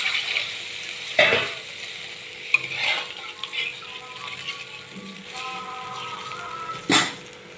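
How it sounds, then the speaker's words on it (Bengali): Fish curry gravy bubbling in a pan while a spoon stirs it, a soft continuous simmer broken by a few louder scraping and knocking strokes. "ঝোলটা আমার ফুটে উঠেছে,"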